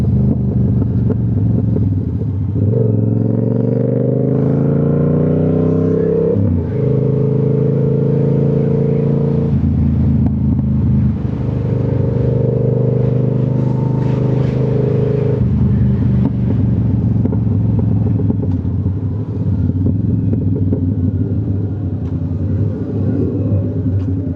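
A Yamaha R7 motorcycle is ridden through city streets, its engine droning loud and close with rising revs, audible gear changes and pitch drops, and steady wind rumble throughout.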